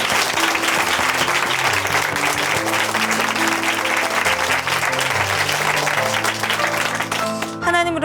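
A church congregation claps steadily throughout, with music playing underneath, the applause fading out briefly near the end.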